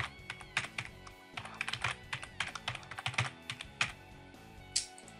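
Rapid clacking keystrokes on a computer keyboard as a password is typed during a server setup, a steady run of crisp clicks with short pauses, close and fairly loud, with no talking.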